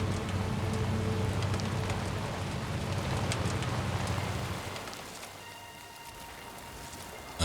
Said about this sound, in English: the timefall came. I thought it was just regular rain.